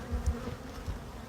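Honey bees buzz around an open hive with a low, steady hum and a few close passes, brief and moderately soft.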